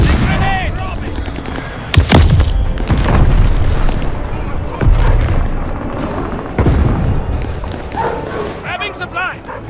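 Grenade blasts and dense gunfire boom through a Call of Duty Vanguard match, with heavy explosive bursts near two seconds and again around five and seven seconds. Voices talk over the fighting.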